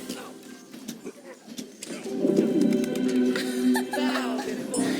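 Birds coo softly in the video game Smite, a low repeating call running under a bed of game effects and clicks that gets louder partway through.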